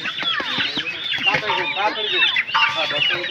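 Many chickens crowd together awaiting slaughter for roasting at a school's annual picnic feast, giving close, dense, overlapping clucks and squawks that continue without pause.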